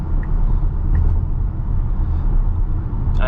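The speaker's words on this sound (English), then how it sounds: "On the freeway, immediately noticeable is the road noise." Low, steady road rumble inside a Tesla Model Y cruising on a freeway, a continuous near drone of tyres and wind with faint passing-traffic swells.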